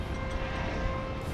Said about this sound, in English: American Flight 2459 is arriving from San Diego. Airbus A321.